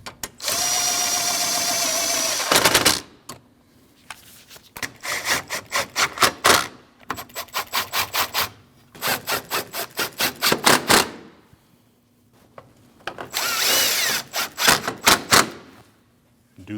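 A power tool runs in short rapid bursts while tightening bolts on the front bumper impact absorber of a 2014-2023 Jeep Cherokee, close and loud, with a longer whirring run at the start and pauses between the clusters of pulses.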